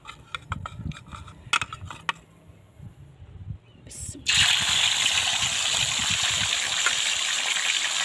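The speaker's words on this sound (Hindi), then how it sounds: "कुकिंग ऑयल गर्म किया कर लिया है आप देख सकते हैं यहाँ पे इसमें अब हम फिश डालेंगे" Fish dropped into very hot cooking oil for a restaurant-style fish karhai, bursting into a loud, steady sizzle that starts abruptly partway through after some quieter kitchen handling sounds.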